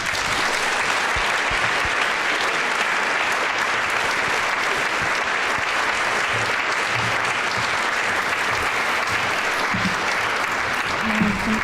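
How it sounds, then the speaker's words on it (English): At the ESU General Assembly in fall 2018, a large audience applauds students with a thick, unbroken wash of clapping that holds at an even level throughout, loud and full with no break. "Let's give them a round of applause"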